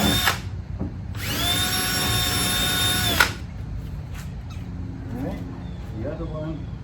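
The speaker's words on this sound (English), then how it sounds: "first, I'm going to drill my holes" A power drill whines steadily for about two seconds while drilling holes inside a Sprinter van, preceded by a short burst at the start, then quieter handling noises and faint rustling follow.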